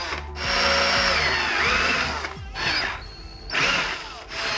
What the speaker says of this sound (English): Time to drill some holes again.